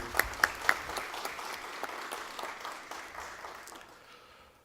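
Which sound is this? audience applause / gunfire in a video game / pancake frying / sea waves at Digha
audience applause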